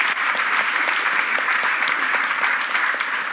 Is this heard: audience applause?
yes